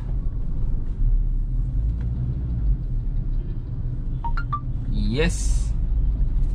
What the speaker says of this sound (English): Let's see if this car passes the through gap testing